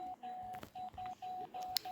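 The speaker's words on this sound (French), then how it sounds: "Quelqu'un sonne?" An electronic doorbell rings as a quiet series of short, evenly spaced beeping tones with brief gaps between them.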